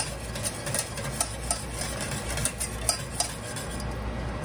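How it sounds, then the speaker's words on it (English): A whisk works through gravy in a pot, giving a steady wet swishing broken by regular light metallic taps against the pot's side, close and moderately quiet. "And whisk that in."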